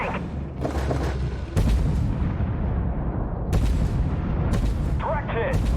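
Tank cannon fire in Armored Warfare, heavy booming blasts and rumbling impacts with game radio callouts spoken over them.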